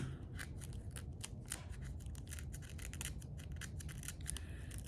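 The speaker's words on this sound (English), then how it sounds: "I'm tearing it up anyway" AliExpress order packaging being torn open by hand: a close, continuous run of quick ripping and rustling strokes with no talking.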